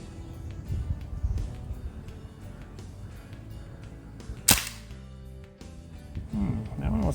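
A single sharp shot from a SIG AIR MPX CO2 air rifle firing a 7.4 grain pellet at a target 10 yards away, a sudden crack near the middle with background talk before and after.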